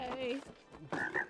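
Frog croaks from the It Takes Two video game, two short throaty calls separated by a brief pause, close and clear with no talking over them.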